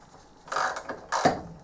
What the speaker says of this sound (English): I think I've just realised why I don't like the ratchet mechanism on that tap wrench.